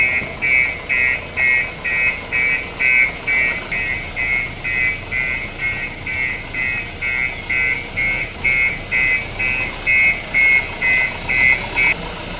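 A JCB backhoe loader's engine runs steadily, loud and close, with a regular throbbing chug repeating about twice a second throughout, and no voices.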